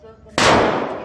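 A single sharp, loud gunshot at a gun range, cracking suddenly out of a quiet background and trailing off in a long echoing decay.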